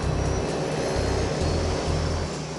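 Twin Otter propeller plane taking off from runway 12 at Moorea, a loud steady engine roar with pulsing low propeller throb filling the whole stretch, no voices.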